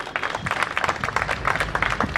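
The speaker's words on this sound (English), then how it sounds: "please give a huge round of applause for our panel today" An audience at a panel event applauds, a steady dense wash of many hands clapping throughout, fairly loud and close, with no talking over it.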